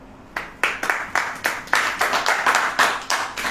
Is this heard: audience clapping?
yes